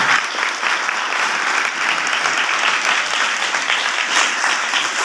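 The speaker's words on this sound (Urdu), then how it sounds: "ہم ان کو خاص طور پر ویلکم کرتے ہیں. زوردار تالیاں دیں." A congregation gives dense, sustained applause to welcome a priest at his installation as pastor of St. Elizabeth parish; the clapping is loud, close and even throughout, with no break.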